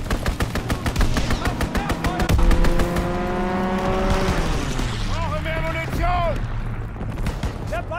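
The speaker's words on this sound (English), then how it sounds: "Fighter pilot inbound, strafing the target." Rapid automatic gunfire with a fast mechanical rattle under game announcer speech in a Call of Duty: WWII Domination match on Flak Tower, as a fighter aircraft strafing run sweeps in with a droning, pitch-shifting pass.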